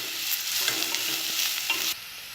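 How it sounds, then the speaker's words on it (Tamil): Sliced big onion and green chili sizzle and fry in an oil-filled pan, a steady bright crackle with occasional stirring scrapes, close and alone. "இப்போ இதெல்லாம் நல்லா பொரிஞ்சிருச்சு"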